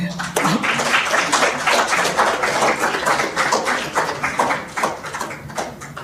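A marketers convention audience applauding at the end of a talk: dense, sustained clapping from a large crowd in a hall, steady and loud throughout.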